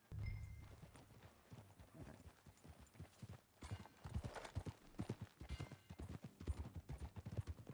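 Horse hooves clip-clop in the Red Dead Redemption 2 video game, a faint, quick, rhythmic run of hoofbeats that grows busier and denser toward the end, with no talk over it.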